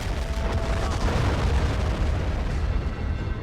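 Artillery fire in the war video game Army Men of War produces a dense, continuous rumbling barrage of booms and blasts that stays loud throughout.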